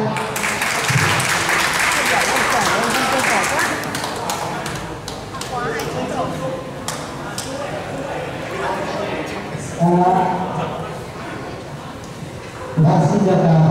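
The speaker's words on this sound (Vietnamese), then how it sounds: "chúng ta xin một tràng pháo tay nha." A crowd at a competition claps for a company representative being introduced. The dense applause is strongest at the start, then fades while an amplified announcer keeps talking over it.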